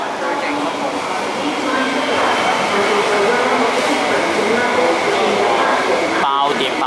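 An MTR East Rail line SP1900 train pulls into a platform at Mong Kok East station, a steady loud rumble and hiss of rolling stock filling the clip, with a brief chime-like tone near the end.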